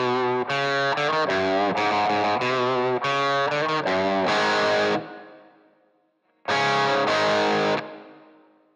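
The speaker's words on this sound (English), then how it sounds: "Now I set up the Univibe and then we can check the entire chain." An electric guitar runs through a Univibe effect, amp and cabinet simulation, and reverb in Overloud TH-U. It plays loud, distorted, swirling chords in choppy bursts, stops as a long reverb tail decays, then strikes again and rings out.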